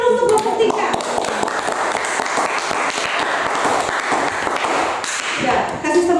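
A classroom of students applauds a student group, steady dense clapping filling the room for several seconds, loud and close, with a few voices mixed in near the start and end.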